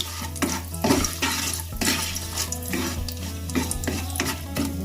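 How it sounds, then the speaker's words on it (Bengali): Whole spices and bay leaves stirred in hot oil in a pan while cooking Bengali doi katla, with a steady sizzle under repeated scraping strokes of a spoon, close and moderately loud, no talking. "ভালো করে ফোড়নটাকে নাড়াচাড়া করে এর মধ্যে গোটা তেজপাতাও দিয়ে দিলাম"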